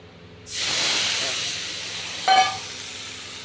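Water poured into a pan of hot oil after frying fish gives a sudden loud sizzling hiss that holds steady and fades slowly, with a short clink partway through.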